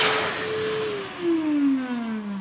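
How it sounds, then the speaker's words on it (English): Electric hand dryer blasts air in a loud, continuous whoosh with a whining tone that slowly drops in pitch, heard close and alone. "Did you hear the sound the hand dryer made?"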